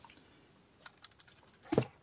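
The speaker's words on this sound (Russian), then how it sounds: "Ладно, извлекаем его из чехла." Blackview Tab 11 tablet pulled from its case, a quiet scrape and soft clicks building to a louder rustling knock near the end, close and alone.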